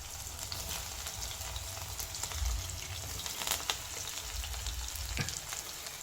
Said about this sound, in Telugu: ముందుకంటే ఎల్లుల్లి వేసుకోవాలి.